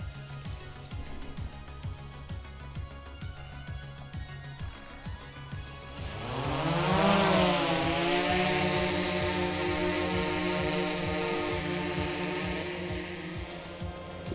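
A DJI Mavic 3 drone spins up for takeoff: after some quick clicks and a low hum, its rotors burst into a loud whine that rises in pitch and then settles into a steady buzzing drone.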